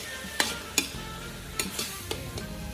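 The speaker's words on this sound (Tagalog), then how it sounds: "So, haluin lang natin to." Ground pork being stirred in a pan over a low flame, with a soft steady sizzle and about five sharp scraping strokes of the spatula at uneven intervals, close and moderately quiet, no talking.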